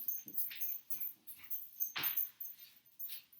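A dog whimpers in a run of short, high, whiny cries with brief gaps between them, close by and fairly soft, with no talking.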